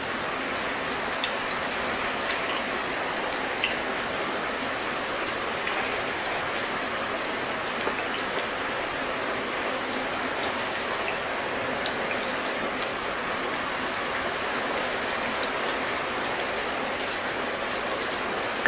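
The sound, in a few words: chicken pakora batter frying in hot oil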